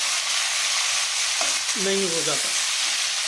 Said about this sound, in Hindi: इसके बाद हम इसमें चिकन डालेंगे। इसको चलाएंगे